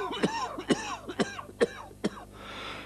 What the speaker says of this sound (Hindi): आपकी खांसी भी जांच कर ले